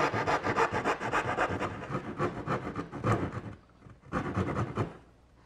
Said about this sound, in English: it's easier to do it with my little dovetailing saw.